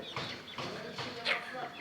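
Chickens cluck softly inside a poultry store at a fish market, in short repeated bursts that are faint and close, mixed with low background chatter.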